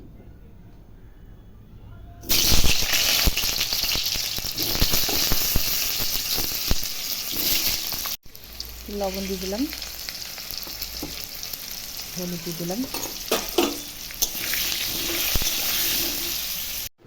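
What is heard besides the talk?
potatoes frying in hot oil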